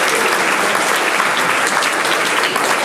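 Loud, dense applause from a large crowd at a public speaking event, sustained and even throughout, close and full with no voices over it.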